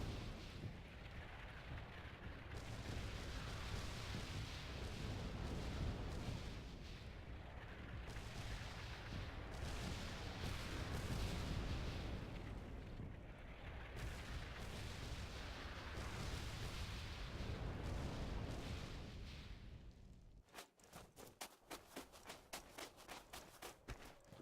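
An artillery barrage rumbles in the Red Orchestra 2 game on the Red October Factory map, a long dense roar of overlapping distant blasts that swells and fades, then gives way to a sharp burst of rapid crackling shots.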